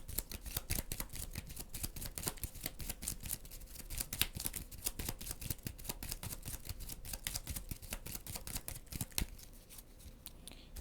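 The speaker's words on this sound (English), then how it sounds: "So Jordan, we have to shuffle his deck up." A deck of cards for the board game Pirates of Maracaibo gets shuffled by hand in a long run of quick, crisp riffling clicks and snaps, close and fairly quiet, with no talking over it.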